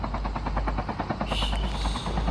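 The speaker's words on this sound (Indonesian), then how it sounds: "Ayo kita pergi ke tempat lain dengan helikopter" Helicopter in a video game, a steady rhythmic rotor chop with a low engine drone, continuous and close.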